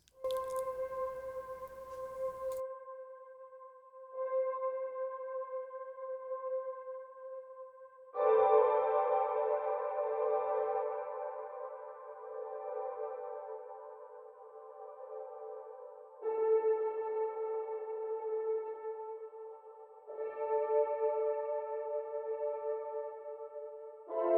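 Sustained synthesized chords with a soft, piano-like tone ring out one after another, each held for several seconds with a reverberant tail, no voices.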